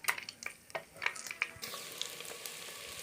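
Onion frying in a pan for chicken masala, a close, steady sizzle broken by a few sharp crackles and pops, with no talk over it.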